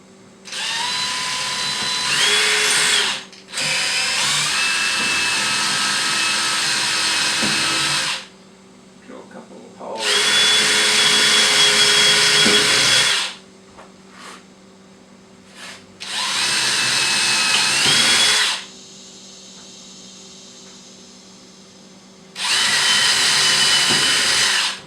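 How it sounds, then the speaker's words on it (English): A DeWalt power drill runs in four long bursts of steady high whine, each several seconds long, with quieter pauses between them and faint voices in the gaps. "Now let's take out Danny, the DeWalt."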